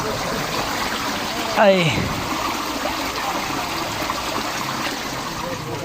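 Steady water stream running in a garden, a continuous broadband rush throughout with a brief louder splash partway, while someone speaks over it.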